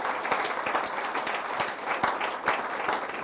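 A church congregation breaks into steady applause, many hands clapping in a dense, continuous patter with a few louder individual claps standing out.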